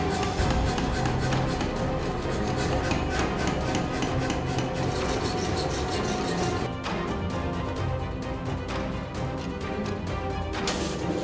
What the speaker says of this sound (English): Gary takes it back to the power hammer and the 3 bars become 1